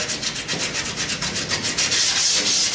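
Steady back-and-forth rubbing of sandpaper by hand over putty under a window, finger sanding with a rhythmic scratchy swish repeating about every quarter second, close and continuous.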